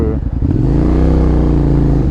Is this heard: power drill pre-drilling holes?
no